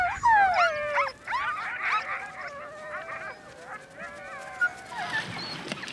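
Greenland sled dogs at feeding time in the Arctic, several dogs yelping, whining and howling in overlapping bursts, fairly close, with quieter whimpers trailing off near the end.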